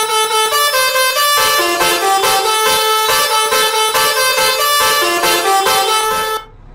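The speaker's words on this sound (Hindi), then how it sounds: "भाई बाहर से कितना लाउड है ये हॉर्न, मैंने अभी नोटिस करा है, बहुत ज़्यादा लाउड है भाई" Bus horn in Euro Truck Simulator 2 sounding loud and continuous, with a sustained multi-tone blare that shifts pitch in steps several times before cutting off abruptly.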